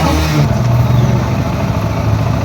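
TVS XL 100 BS6 moped engine running steadily close by, a continuous mid-pitched putter with slight rises in revs, heard alone without talking.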